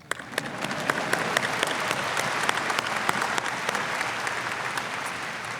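Applause at a university commencement ceremony, a large crowd clapping steadily and building slightly, with sharp individual claps standing out from the dense, sustained wash.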